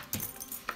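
A short burst of metallic key jangling, close and fairly loud, with two or three quick clinks in under a second, set down beside a Yu-Gi-Oh deck and booster pack.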